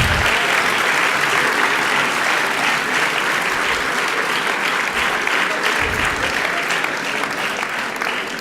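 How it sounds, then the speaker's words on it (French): Audience in a hall applauding loudly and steadily for a French champion, dense sustained clapping filling the space from start to finish. "je vous demande de l'applaudir bien fort"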